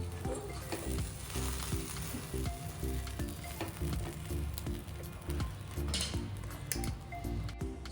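Sandwiches fry in ghee in a pan, giving a loud, steady sizzle close up, with occasional clinks and scrapes of a utensil against the pan.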